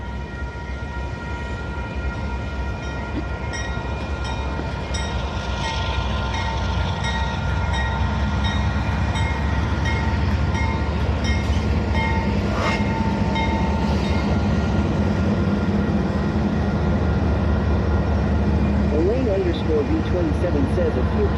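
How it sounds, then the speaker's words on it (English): Train rolling past with a continuous heavy rumble and rhythmic wheel clatter, some squealing metallic tones late on, steady and fairly near. "Might as well wait for the train."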